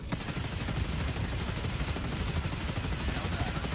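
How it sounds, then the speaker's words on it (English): Rapid video-game gunfire crackles steadily and densely throughout, loud and continuous, with a big robot enemy in the fight and no clear talk over it. "I'm shooting you in the head!"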